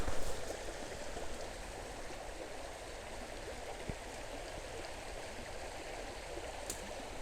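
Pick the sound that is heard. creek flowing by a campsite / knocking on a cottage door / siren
creek flowing by a campsite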